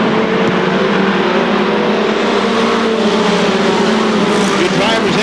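Race trucks roar around Seekonk Speedway in a dense, loud, unbroken engine din, with an announcer's commentary running over the noise.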